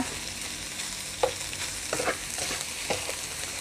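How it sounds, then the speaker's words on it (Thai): Tomato and carrot are stir-fried in a pan, with a constant sizzle and several scraping stirs of the spatula heard close. "มะเขือเทศแครอท ผัดให้เข้ากันก่อนนะคะ"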